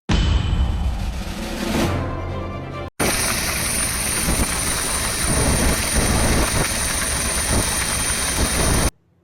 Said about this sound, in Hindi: रामनगरी अयोध्या में शिव और राम भक्तों पर हेलीकॉप्टर से पुष्प वर्षा का भव्य नजारा देखने को मिला।